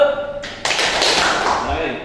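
A group of junior high students in an Indonesian classroom clap in unison, a dense burst of overlapping hand claps that starts abruptly and carries on close and loud for a couple of seconds, following a brief spoken voice.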